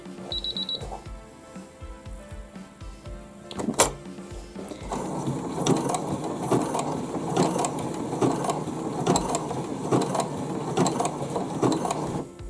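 A sewing machine stitches a small handbag, running in a steady rapid mechanical chatter that starts after a few seconds of quieter handling and a sharp click, continuing loud and close to the end.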